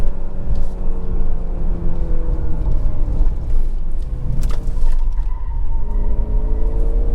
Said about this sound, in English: Good acceleration, good quick shifts.